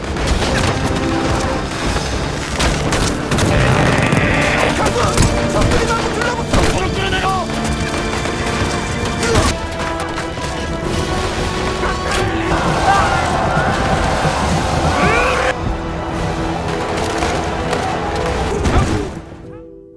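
Gunfire and explosions ring out in a sea battle between Yi Sun-shin's fleet and invading Japanese ships, with loud crashes, booms and volleys over dramatic music and occasional voices.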